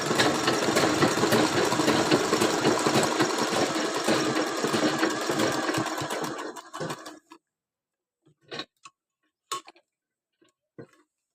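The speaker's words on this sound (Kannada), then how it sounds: "ನಮ್ಮ ಹಳ್ಳಿ ಕಡೆ ಎಲ್ಲ ಫಾಲ್ಗಳನ್ನು ಜಿಗ್ಜ್ಯಾಗ್ ಮಿಷಿನಲ್ಲಿ ಹಾಕ್ತೀವಿ" A zigzag sewing machine stitching falls onto a saree whirs loudly and steadily for about seven seconds, then stops, followed by a few scattered clicks and handling noises.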